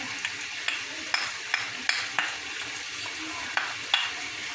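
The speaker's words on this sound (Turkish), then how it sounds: "Böyle pembeleşinceye kadar kavuracağım." Soft, steady sizzle of three finely chopped onions frying in oil in a pan, with quiet scattered pops and scraping clicks from stirring, fairly close and low in level.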